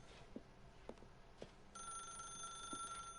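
A telephone rings with a steady electronic bell tone that starts partway through. It is faint and sits over quiet room noise with a few soft clicks before it.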